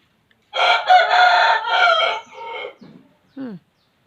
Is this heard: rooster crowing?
yes